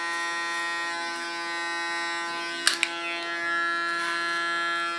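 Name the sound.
electric hair clipper cutting hair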